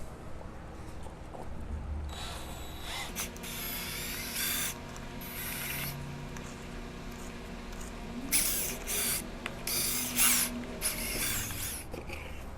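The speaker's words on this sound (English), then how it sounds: "I'll try that and get it mixed up with the drill." A power drill whirs in steady bursts, stopping and restarting several times as a paddle churns thick mud in a bucket, loud and close.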